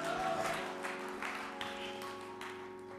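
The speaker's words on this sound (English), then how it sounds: "give the Lord a clap offering." A church congregation claps during a sermon, a short burst of fairly faint scattered applause over a sustained background tone, fading slightly over three seconds.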